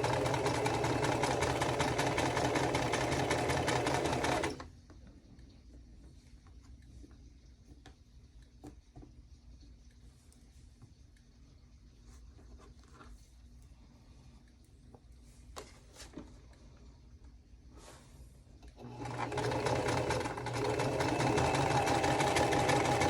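A sewing machine stitches quilt block pieces in two loud, steady runs at the start and end, with a long quiet stretch of faint clicks and handling in between.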